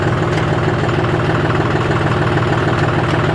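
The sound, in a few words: John Deere 5050D tractor engine idling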